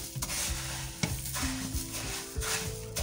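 A spoon stirs puffed rice through hot jaggery syrup in a pan on the stove for gur murmura ladoo, making continuous scraping and rustling with soft sizzling and occasional knocks of the spoon against the pan.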